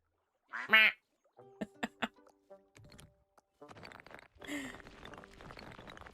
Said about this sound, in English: look at the little ducks.